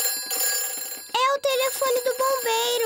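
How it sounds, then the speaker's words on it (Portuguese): A fire station telephone rings in a Peppa Pig cartoon, a bright warbling electronic ring repeating in short bursts, loud and close, with no talk over it. "É o telefone do bombeiro."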